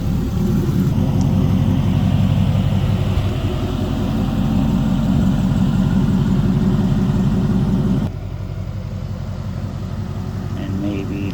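A turbocharged Lincoln Town Car engine idles loudly and steadily close by, its low rumble continuous throughout, with the tone dropping and thinning slightly partway through.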